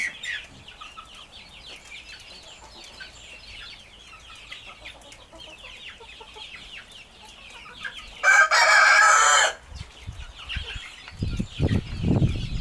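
Laying hens cluck and chatter continuously nearby, with a rooster's loud crow breaking in partway through and some rustling toward the end.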